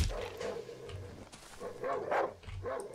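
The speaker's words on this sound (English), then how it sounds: "there's a dog" A dog in the survival horror game Darkwood gives several sharp, uneven barks and yips, close and fairly loud, and the sounds overlap each other across a few seconds.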